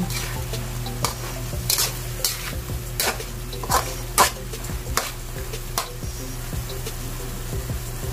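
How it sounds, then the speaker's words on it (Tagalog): Chicken being stirred in a sizzling pan before chayote goes in for ginisang sayote: steady frying hiss under repeated sharp scrapes and clacks of a utensil against the pan, close and fairly loud, with no talking. "Pero bago natin ilagay, haluin muna natin."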